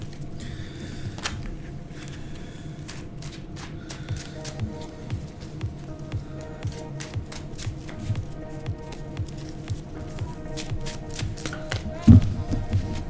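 A deck of Magic cards is handled and shuffled while being searched, giving soft, repeated taps and riffling clicks, with a muffled voice in the background.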